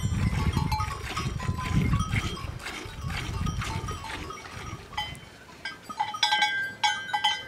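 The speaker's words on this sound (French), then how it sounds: "C'est ici que Loïc et ses chèvres viennent passer l'été" A herd of goats grazing a high mountain pasture in the Piedmont Alps above the Viu valley, with scattered bleats, clanking bells and shuffling rising and falling over steady outdoor ambience, livestock sounds close and overlapping throughout.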